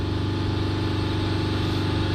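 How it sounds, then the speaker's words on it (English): Mercedes E350 3.0 V6 CDI diesel engine with a blocked DPF, held at about 3000 RPM, a loud steady drone with a fast even throb and no change in pitch throughout. "I'm going to hold the revs back up at around about 3000 RPM again."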